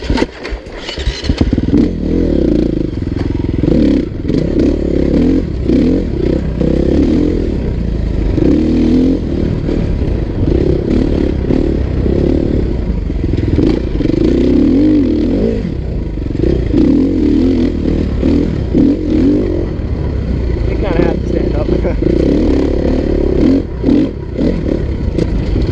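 A 2016 KTM 350 EXC-F dirt bike is ridden through tight trail terrain, its engine droning and revving steadily up and down close by, with clattering and scraping from the ground throughout.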